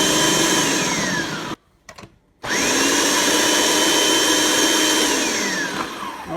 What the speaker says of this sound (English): I've got these zucchinis very, very finely chopped up here with the machine